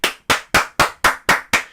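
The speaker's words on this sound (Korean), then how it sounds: "또 박수!" Seven sharp, evenly spaced claps ring out in quick succession at a political rally, each hit crisp and close with a short decay.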